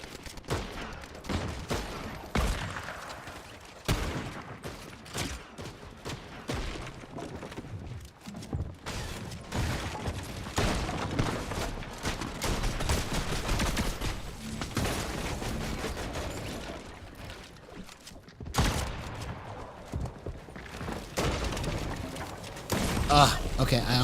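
Video game gunfire crackles in rapid bursts and scattered single shots throughout, fairly close and loud, with steady mechanical game sounds between volleys.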